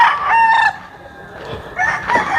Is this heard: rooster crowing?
yes